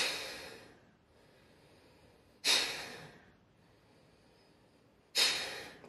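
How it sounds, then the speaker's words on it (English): Sharp, forceful nasal breaths of Bhastrika Pranayama come in two sudden bursts a few seconds apart, each fading quickly into quiet, close and clear with no talking. "breathing in,"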